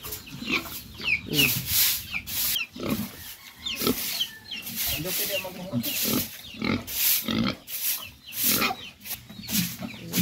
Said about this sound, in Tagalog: Pagpakain na ng baboy. Kasi gutom na ang baboy.